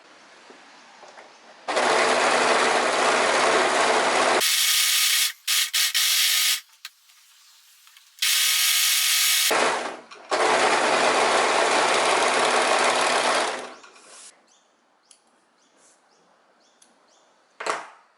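An overlock machine stitches the seams of linen shorts in loud, fast continuous bursts, several runs of a few seconds each separated by short pauses, with the whirring stopping cleanly between passes.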